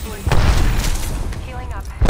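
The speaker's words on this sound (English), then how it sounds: "Grenade." Grenade explosion in the Apex Legends video game, one loud booming blast rolling out after a sharp onset, with a second hit at the end and a voice talking over it.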